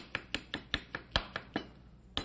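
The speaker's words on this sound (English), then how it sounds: "And then we want to chop it very fine." A knife chops peeled tomato finely on a board, about ten crisp, evenly spaced strikes at close range with no talk.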